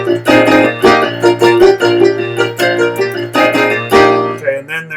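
Piano plays the five lower-part notes of the carol Christmas is Coming, clear, close notes struck in a rhythmic repeating pattern over a sustained low tone, with no talking.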